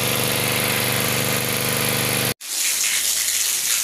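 Water draining from a tilapia tank makes a loud, steady broadband rush with a motor-like hum, breaks off abruptly for a moment midway, then resumes as a thinner, quieter gush.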